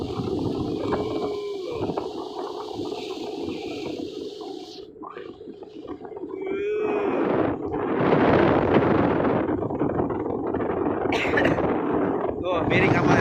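Strong wind buffeting a ship out at sea, roaring gusts that rise and fall through the stretch, with people talking loudly over the noise.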